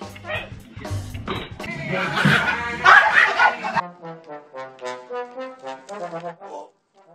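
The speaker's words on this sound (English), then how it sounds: "It's the cutest puppy in the world" A puppy yips and barks in a rapid, close series of short, high calls, first mixed with excited human talk and exclamations, then alone in evenly spaced bursts before stopping.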